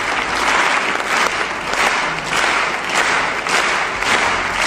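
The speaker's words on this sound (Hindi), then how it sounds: "इस वीडियो में ऑडियंस कुछ परफॉर्मेंस के लिए तालियां बजा रही हैं।" A theater audience applauds a performance, dense continuous clapping that steadily falls into a shared rhythm, with regular pulses emerging as the crowd claps together in unison.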